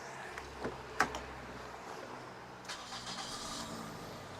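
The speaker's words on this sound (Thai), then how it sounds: "รถสตาร์ททีเดียวติดนะครับเครื่องเดินนิ่งเรียบนะครับ" A car engine cranks and catches after a couple of quick bursts, then settles into a quiet, steady idle.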